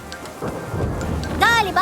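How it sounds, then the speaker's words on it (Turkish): Rain hissing steadily with a low rumble of thunder, then a bright whooshing, warbling effect near the end. "Fırtına korkutucu olabiliyor biliyorum"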